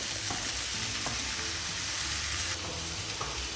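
Ingredients for a home-cooked prawn curry sautéing in a pan, a steady near sizzle with occasional soft stirring clinks throughout, no talk.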